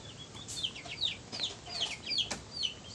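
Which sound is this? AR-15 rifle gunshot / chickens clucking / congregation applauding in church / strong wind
chickens clucking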